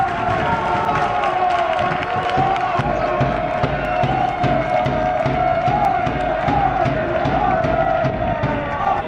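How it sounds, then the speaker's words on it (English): A crowd at a Tercera División football match between Móstoles and Pozuelo Alarcón roars loudly and continuously after a goal, with cheering and shouting that rises and falls and no clear individual talk. "I'm guessing the reaction of the crowd will give it away."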